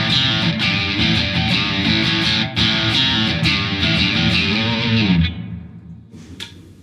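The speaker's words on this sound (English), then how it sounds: "Just do a little bit of distortion." Distorted electric guitar chords from a 1981 Fender Bullet on the neck pickup, strummed steadily and loud for about five seconds, then cut off, leaving a faint ringing decay and a brief noise.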